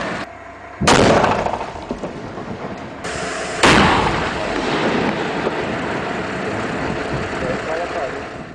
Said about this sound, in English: Blocks of granite are blasted apart from the rock at the quarry